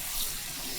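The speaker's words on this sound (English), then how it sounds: "We wash it out with the water to get the excess salt out of it" Water runs steadily from a kitchen tap, rinsing excess salt from ingredients for sour cherry rice with meatballs. The soft, even hiss stays at low volume and continues unbroken.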